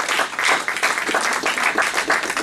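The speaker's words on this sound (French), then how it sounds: "Acclamons très fort pour la gloire du Seigneur" A church congregation applauding loudly and continuously, dense rapid clapping from many hands filling the room for the whole stretch, close and steady with no clear speech.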